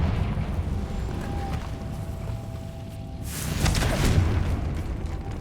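A Confringo blasting spell in Hogwarts Legacy bursts into a booming explosion midway through, following a quieter stretch of game ambience, then rumbles and fades.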